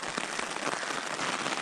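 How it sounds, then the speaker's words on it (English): Heavy rain drums steadily on a tent pitched near Ben Nevis, a dense continuous hiss of drops close to the fabric, unbroken and with no voices. "it's quite heavy rain at the moment"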